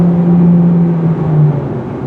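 A 2024 Hyundai Sonata Hybrid under hard acceleration, a loud steady engine drone heard from inside the cabin, with a smooth rising and easing hum over two seconds.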